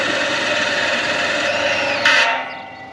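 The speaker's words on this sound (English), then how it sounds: "2 holes in this piece of pipe. And it's not a sharp drill bit." Drill with a blunt bit grinding holes into a piece of pipe, a loud, steady, rough whirring held close for nearly three seconds that then fades as it winds down.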